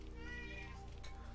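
A house cat meows loudly once, a short, tonal, close cry over a low steady hum.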